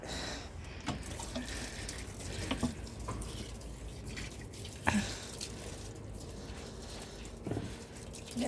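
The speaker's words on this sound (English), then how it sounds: "I water my plants with my elephant" Water trickles steadily from an elephant-shaped watering can onto plants on a morning outdoors. The flow is soft and continuous, with occasional light splashes and knocks.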